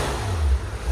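A 2019 Porsche 911 GT3 RS with a muffler delete and exhaust valves closed gives a brief rev, a low muffled engine rumble swelling and easing within a second, close and fairly loud.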